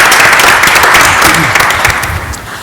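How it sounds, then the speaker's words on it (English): A city council meeting room full of people clapping steadily, a warm burst of applause that holds level and starts to taper off at the end. "We'll give you another round of applause."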